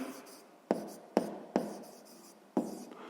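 A pen writes out a math solution on paper, giving close scratchy strokes marked by a few sharp taps.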